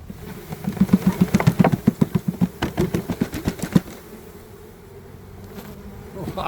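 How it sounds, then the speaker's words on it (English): A dense, humming buzz of about two pounds of bees being poured into a hive, loud and close, with rhythmic thumping pulses at first that fade into a steadier drone. "now we're gonna get 2 pounds of bees in the hive."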